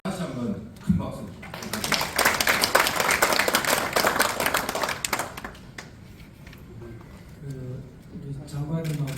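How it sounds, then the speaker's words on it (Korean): An audience at a Korean commemorative society gathering breaks into a big round of applause, a burst of dense clapping that swells after a short pause and fades, with someone talking before and after it. "다시 한번 큰 박수"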